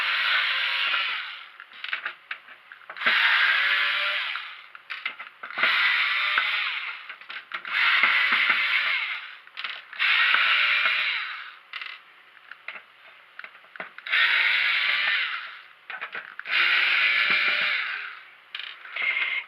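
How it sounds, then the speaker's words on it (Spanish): Screws being backed out of a PS4 fat console during disassembly: close, squeaky creaking bursts of a screwdriver turning, repeated about nine times with short pauses between. "Ahora seguiremos quitando los tornillos que se han quedado al descubierto."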